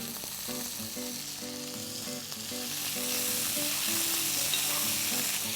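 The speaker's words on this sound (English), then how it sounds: "Into this, next I'm going to add in 4 carrots that I've diced." Diced carrots and green peas frying in a pan, a loud continuous sizzle that swells in its second half, with faint tonal hum and clatter beneath, no voices.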